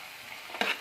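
A brief sizzle rises near the end of a short, quiet stretch as ginger-garlic paste hits hot oil in a pan for palak paneer.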